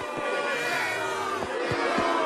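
Animated studio audience crowd roaring and jeering back at a performer, a dense continuous wall of voices with a few sharper shouts poking through.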